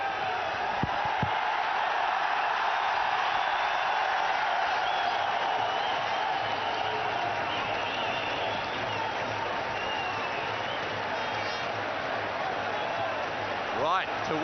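A cricket crowd at Sharjah roars without pause through a big-hitting run chase, dense cheering and applause spread wide and sustained, with a commentator's voice running over the noise.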